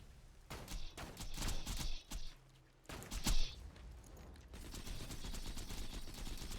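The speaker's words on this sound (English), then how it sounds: "Shoot him with the Pimpernel a bit." Pimpernel sniper rifle shots in Borderlands 2 fire in sharp, loud cracks at an uneven pace over a steady background din of game combat.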